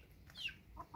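A chicken clucks softly twice in a quiet space, brief chirpy notes close by.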